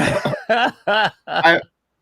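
Four sharp coughs in quick succession within a music track, loud and close, with brief pauses between them and nothing else underneath.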